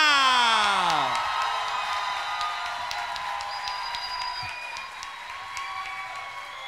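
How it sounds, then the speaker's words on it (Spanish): A studio audience greets a guest on a talk show with falling whoops and cheers that give way to sustained clapping and scattered sharp claps. "Por favor, denle un fuerte aplauso al señor Víctor Medina, a.k.a. Nanutria."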